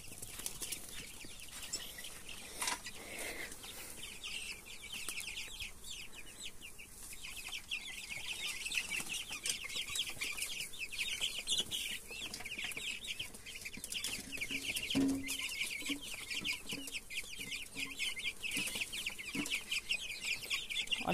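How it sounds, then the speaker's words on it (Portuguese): Guinea fowl and chicks in a backyard pen cluck and chatter steadily for about twenty seconds, a faint, continuous flock noise with occasional louder calls and rustling. "Aqui são 10 capotes e 10 pintinhos."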